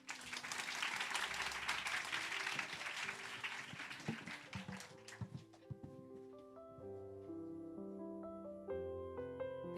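Audience at a church young adults' gathering applauding, dense clapping that thins out after a few seconds as soft piano and organ-like music takes over.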